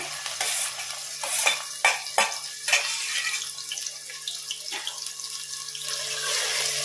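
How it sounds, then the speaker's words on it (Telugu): Sliced onions and green chillies go into hot oil for a country chicken curry, with a faint sizzle beneath a series of sharp scraping and stirring clinks from a spoon against the pan, all close and without voices. "ఆయిల్ హీట్ అయింది. ఇప్పుడు ఉల్లిపాయలు, పచ్చిమిరపకాయలు వేసుకుందాం."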